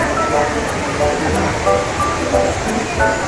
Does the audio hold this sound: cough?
no